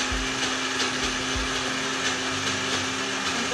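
Blender whirring steadily through thick black bean brownie batter, a loud continuous motor drone with low lumpy thumps as the dense mixture churns.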